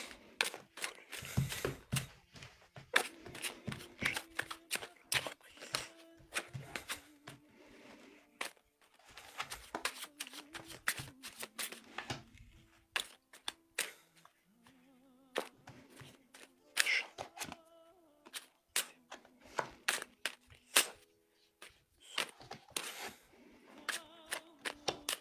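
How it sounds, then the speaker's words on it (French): Tarot cards shuffled rapidly by hand, producing close, sharp riffling bursts and slaps in irregular quick clusters, with faint tonal background sounds between them. "je vais refaire un brassage de cartes rapide"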